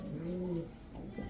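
Pigeons coo up close, one rolling, throaty coo that swells and fades over a second or so with no talk. They are racer, Lahori and pouter pigeons kept for sale.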